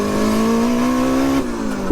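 Big-turbo Toyota MR2 sleeper accelerating hard, a loud, rising engine note held for over a second before a sudden drop as the driver shifts, heard from inside the car.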